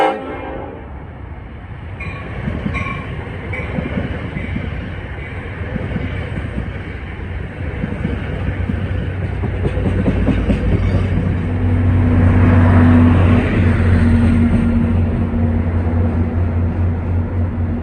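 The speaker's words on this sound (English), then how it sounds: "did you hear that on the 6012 cab car? K5LLA horn." Horn on EMD cab car 6012 (a K5LLA) at Secaucus, NJ, sounding loud and sustained in the second half over the rolling rumble of a passing train, after a softer stretch of rail noise.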